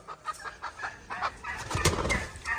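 Desi hens cluck and squawk softly in a small home poultry coop as they are caught one by one and put inside, with brief wing flaps and one sharper knock near the end, fairly faint.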